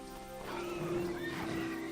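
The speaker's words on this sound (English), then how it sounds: "I can hear them killing the horse." A horse in the Titan Quest video game neighs in one loud, close whinny that rises and then trails off, heard on its own without speech.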